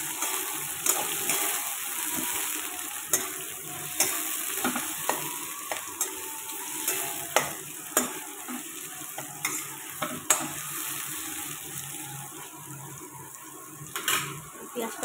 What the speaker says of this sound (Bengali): পেঁয়াজটা ভাজা হতে থাকুক।